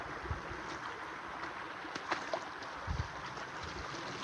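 Flowing stream water near the Waghdhara waterfall, a steady broadband rush with faint gurgles and small splashes, continuous and moderately close with no speech.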